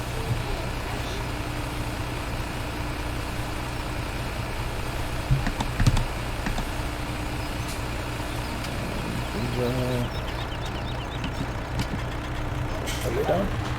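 A truck being loaded with canola in Farming Simulator 17, a steady low engine drone with occasional clunks and a hiss of air brakes, and someone talking over it.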